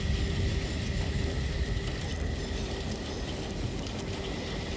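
A train rolls into a small halt at Nebitchen in Germany on the line toward Chemnitz, its steady, loud rumble of wheels on rail carrying a faint high tonal whine throughout, close by and with no voices.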